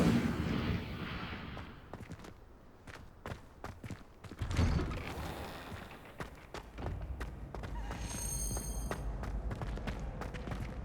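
Incendio fire spell cast in Hogwarts Legacy, a sequence of sharp booming blasts and thuds among whooshing, crackling game effects, loud and close, with a later bright ringing shimmer.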